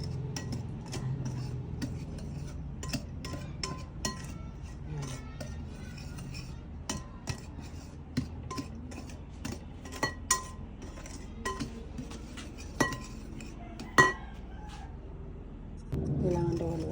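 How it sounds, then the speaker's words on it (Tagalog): A utensil stirs ingredients in a bowl for steamed rice cakes (puto), making soft scraping swirls and scattered sharp clinks against the sides, fairly quiet and with no voices. "Kailangan i-mix mo lang ng i-mix hanggang mahalo siya."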